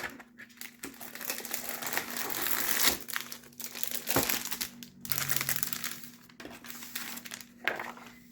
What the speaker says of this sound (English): Let's check out this heat transfer vinyl bundle from HTVRont.